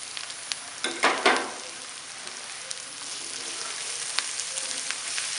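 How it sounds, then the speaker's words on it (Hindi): Spices (red chilli powder, turmeric, coriander powder and salt) fry in a pan for fish curry, giving a soft, continuous sizzle with a few louder stirring scrapes early on, heard close and alone without talk. "मसाले को भूनेंगे।"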